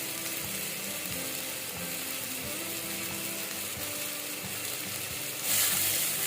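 Small shrimp sizzle and crackle steadily in a pan with ginger-garlic paste, a continuous frying hiss under faint clinks and stirring knocks, louder briefly near the end.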